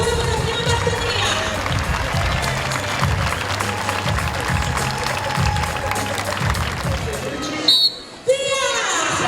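Crowd applause and cheering at an outdoor village palio race in Paluzza, dense and continuous with rhythmic clapping, loud and close, briefly dropping near the end.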